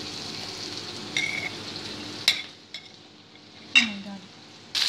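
Garlic frying in oil in a pan gives a soft, steady sizzle, broken by several sharp clinks of a utensil against the pan.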